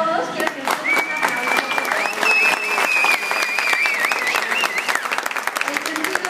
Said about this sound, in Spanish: Un aplauso primero para todos